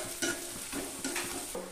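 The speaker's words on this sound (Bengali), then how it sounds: "লবণ হলুদ দিয়ে পেঁয়াজটাকে একটু ভেজে নিব।" Chopped onion with salt and turmeric sizzles softly in a pan while being stirred, with a few quick scraping strokes over a faint, steady fry.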